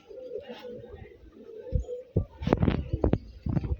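Low, muffled cooing of a pigeon on a pigeon farm at first, then a person talks nearby over it.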